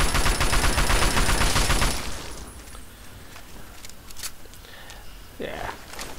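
Gunfire from a hunting rifle in the Fallout 3 video game: a dense burst of loud shots in the first two seconds, then quieter game ambience with a few faint sounds.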